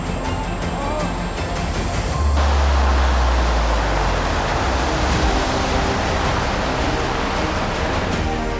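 Tsunami waves approaching the coast in Japan: a steady, loud roar of rushing water that swells into a deeper, heavier rumble after a couple of seconds and keeps surging without a break.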